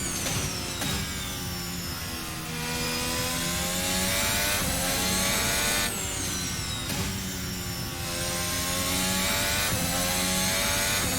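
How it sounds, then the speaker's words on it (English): Loud, high-pitched Formula Hybrid 2021 racing car engine in the video game, whining and climbing, with sharp drops in pitch at downshifts, continuous and close, no talking. "You can just hear the downshifts and just the way this car sounds is crazy"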